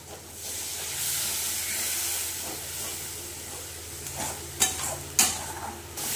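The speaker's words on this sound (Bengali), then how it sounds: "বন্ধুরা, এবার দিয়ে দেবো সামান্য একটু জল, যাতে মশলাটা একটু সেদ্ধ হয়" Water poured into hot sizzling masala for an orange brinjal dish sends up a loud steady hiss of steam and frying, with a couple of sharp crackling bursts toward the end.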